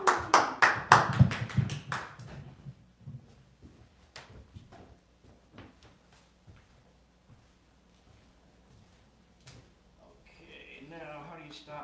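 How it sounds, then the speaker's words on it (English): Audience at a comedy open mic show claps in a short burst of scattered applause that quickly fades to sparse claps and taps, with talk and voices mixed in near the end. "let's give ourselves a round of applause"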